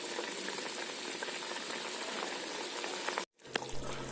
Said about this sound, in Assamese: চাওক কি ধুনীয়াকৈ উতলিছে।